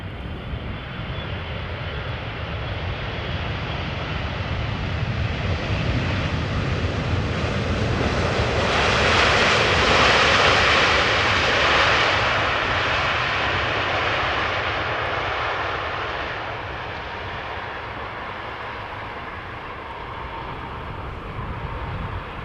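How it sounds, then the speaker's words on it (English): A Boeing 777-300ER jet arriving from Cape Town at Amsterdam Schiphol Airport, a loud rushing engine roar swelling to a peak midway as it passes, then fading, with no talk. "Alright, this is A777 arriving from Cape Town, flight 598, 777-300 ER."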